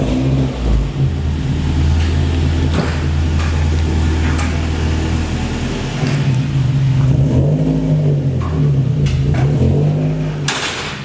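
A Ford Fiesta ST150 fitted with a custom RS-style dual exit exhaust idles and revs close by, its deep steady drone swelling and falling in a continuous run without talk.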